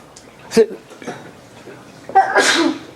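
A single sharp sneeze bursts out indoors, followed a moment later by a louder, breathier second burst with faint clinks of dishes in the room.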